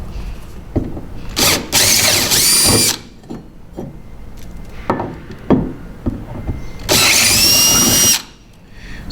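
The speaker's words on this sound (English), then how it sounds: "we need to drill these out because we want them to be clearance holes instead of threaded holes." A power drill bores out threaded holes in a Wilderness Systems Recon 120 kayak to make clearance holes for a Torqeedo motor installation. Two loud, close whining bursts of drilling are separated by quieter handling clicks and knocks.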